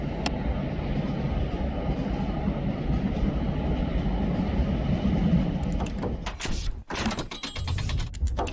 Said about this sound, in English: I take you on a journey on Avanti West Coast's latest fleet, the Class 805 from London Euston to Stafford